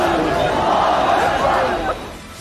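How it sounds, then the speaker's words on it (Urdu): A large crowd of thousands gathered outside Fatih Mosque in Turkey, a dense wash of many voices chanting and shouting together in an outdoor rally, loud and continuous before easing slightly at the end. "ترکیہ کی مسجد فاتح کے سامنے ہزاروں افراد جمع ہوئے اور فلسطین کے حق میں نعرے لگائے"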